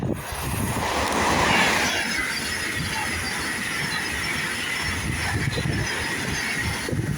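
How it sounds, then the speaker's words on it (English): A Class 390 passenger train passes through South Kenton station as a loud, continuous rush of wheels and rail noise with some high squeal. The sound swells early and then holds steady close by. "Here comes a 390."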